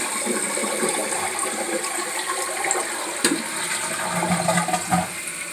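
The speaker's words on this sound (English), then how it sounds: "So I'm just going to go ahead and flush this so you guys can see how it works." A Crane toilet with a brass handle and a Corky fill valve flushes with a steady rush and gurgle of draining water, close and continuous throughout with no talk.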